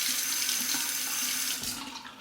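A tap runs steadily while a Merkur 23C safety razor is rinsed under it, a continuous close splashing stream of water at even loudness.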